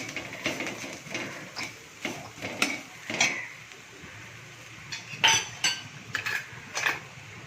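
A spoon stirs and scrapes in a pan as turmeric and chilli powder are sautéed over low heat. Irregular metallic clinks and scrapes sound up close, moderately loud, with no talk.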